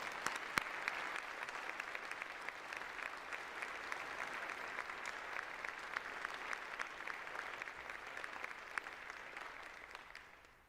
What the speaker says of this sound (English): Audience, please join me in a round of applause.